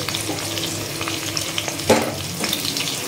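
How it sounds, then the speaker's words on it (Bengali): Onions fry in a pan until deep red, sizzling steadily and loudly with scraping stirs throughout and one sharper clatter near the middle, for a Bengali fish-bone chorchori; no one speaks. "প্যাঁচগুলোকে ভালো করে একদম পুরো লাল লাল করে ভেজে দিতে হবে"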